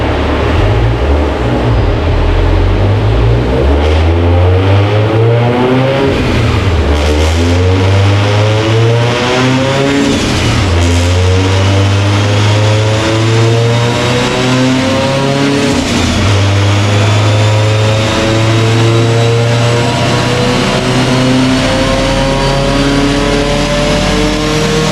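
A Subaru STI strains through a dyno pull, its engine loud and close as it revs repeatedly in climbing sweeps, dropping back and rising again with the gears, with no talking over it.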